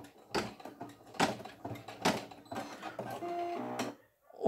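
A Brother single-needle embroidery machine stitches a satin zigzag on a minky fabric hippo applique skirt, giving a steady mechanical whirring with rhythmic clacking pulses and a few louder knocks, close and alone before stopping.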